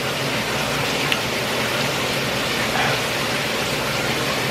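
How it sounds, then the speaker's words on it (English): A home shower runs at full flow, a steady broadband hiss of water spraying and splattering, loud and close, continuous with no talk. "let me just get in the shower"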